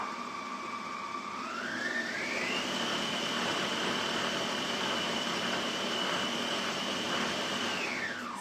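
An All Cook kitchen robot runs at full speed 10, a steady mechanical whir whose motor pitch climbs sharply early on, then holds a high, even whine before easing slightly near the end.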